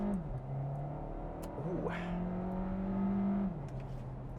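A 2021 Volkswagen Tiguan 110TSI with a petrol engine and front-wheel drive accelerates hard, its engine note rising and holding through gear changes, loud and close from inside the cabin, with a brief exclamation from the driver.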